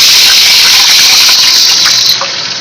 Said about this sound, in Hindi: इसमें डालेंगे सफ़ेद ज़ीरा आधी चम्मच और इसके ऊपर डाल देंगे पानी